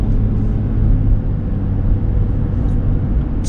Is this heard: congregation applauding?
no